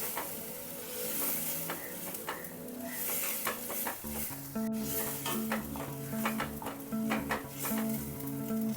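Steady sizzling in a pan with repeated scraping and clinking of a spoon as blended spinach is stirred, no voices.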